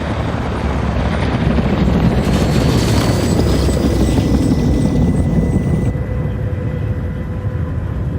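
In a dramatized Chernobyl film scene, a helicopter flies over the burning nuclear plant to drop sand on the fire, its loud rotor drone filling the scene continuously and without pause.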